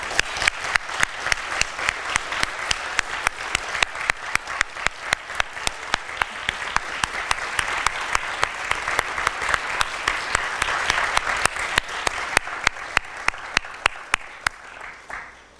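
Sustained applause from a gala dinner audience for standing award nominees, a dense steady wash of many hands clapping with sharp individual claps on top, building slightly in the middle and tapering off at the end.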